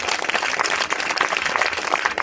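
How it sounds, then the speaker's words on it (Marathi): Dense, steady audience applause at a devotional kirtan gathering in Shelud, many hands clapping together at close range and holding an even loudness throughout. "माऊलीसाठी टाळ्या झाल्या पाहिजेत"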